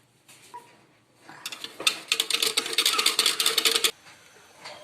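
Flour is mixed with water in a jug, a rapid clattering of a utensil against the container lasting a few seconds at close range, with quieter handling before and after.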